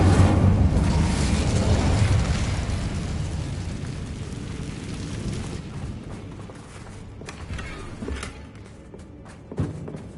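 Incendio fire spell cast in Hogwarts Legacy, a loud roaring fiery burst that swells at once and then fades over several seconds into a low rumble, with a few faint knocks near the end.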